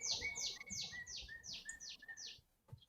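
A bird chirps in a quick, evenly spaced series of about seven bright, sweeping notes, fairly close. The run ends abruptly and leaves faint background noise.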